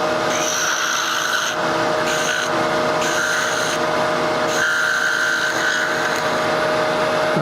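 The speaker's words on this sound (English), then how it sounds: "So I'm going to use this as my roughing gouge and my turning gouge." A roughing gouge cuts a spinning workpiece on a wood lathe at a turning symposium, a continuous loud scraping, shaving rasp over the motor's steady hum, shifting in pitch as the tool moves, with no talk.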